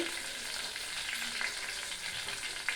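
Brinjals fry in oil in a pan, giving a steady, fairly quiet hiss of sizzling with small crackles and pops scattered through it.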